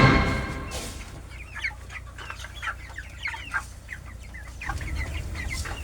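Backyard chickens raised for meat, around 45 days old, cluck and chirp in a steady run of short calls close by, with one louder squawk at the start and no talk.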